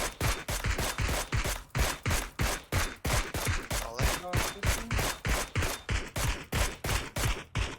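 Rapid gunfire rings out in a battle royale video game, with repeated sharp shots in a steady, fast rhythm that fill the whole stretch, loud and close, with no talk over them.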